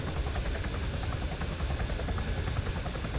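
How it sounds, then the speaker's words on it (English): A Chinook helicopter in flight in the ARMA 3 video game gives a steady, dense rotor and engine drone that stays constant and fairly quiet throughout, with no voices. "I've never flown in like a Chinook like this"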